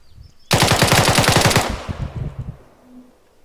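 A burst of rapid automatic gunfire, fired at a trench during an infantry training exercise, loud and close, dense repeated shots for about a second, then a few scattered trailing pops fading out.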